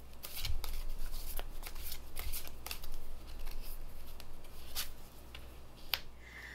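Tarot cards shuffled by hand in a series of crisp riffling bursts and soft slaps, close and fairly quiet, with no talking.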